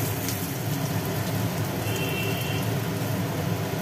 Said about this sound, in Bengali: পটলগুলো ভাজা হচ্ছে